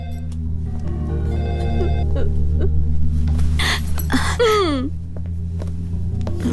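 A telephone ringing in a tense indoor scene, a repeating electronic ring over a low steady hum, with a gasping vocal sound and a brief voice partway through.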